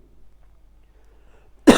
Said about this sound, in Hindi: सॉरी, खांसी कैसे हो गई।